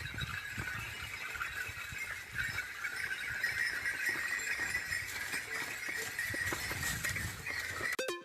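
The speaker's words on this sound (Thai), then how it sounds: "หมดเวลานะครับคำตอบคือข้อขอไข่เสียงเกวียน" A wooden ox cart rolls along with steady creaking squeals and faint clinking and clopping, played as a sound in a children's guess-the-vehicle game, fairly quiet and without voices.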